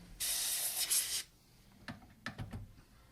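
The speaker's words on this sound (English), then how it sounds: "Let's blow a little air on here." A dental air syringe gives a short, sharp hiss of air over a crown preparation on a maxillary tooth for a PFM crown, followed by a few faint clicks and taps in a quiet room.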